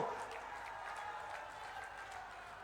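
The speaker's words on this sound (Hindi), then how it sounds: "तालियों की गड़गड़ाहट के साथ आदरणीय अमित शाह जी को" A political rally crowd in Korba claps for Amit Shah, a faint, steady patter of distant applause with a voice speaking over it.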